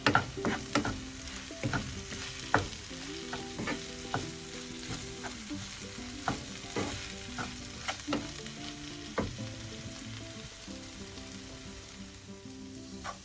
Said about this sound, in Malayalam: കുറച്ച് ഉപ്പും കുറച്ച് കറിവേപ്പിലയും കൂടെ ചേർത്ത് നമുക്ക് മിക്സ് ചെയ്യാം